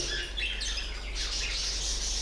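Budgerigars chirping during courtship, a dense run of bright, rapid warbling and chirps close by, continuous throughout with no talking.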